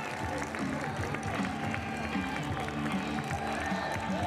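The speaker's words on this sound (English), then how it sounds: "Cheer for the home team." A college baseball crowd at a VCU versus Virginia Tech game cheers and claps for the home team, a steady distant roar of applause mixed with voices, under a commentator talking.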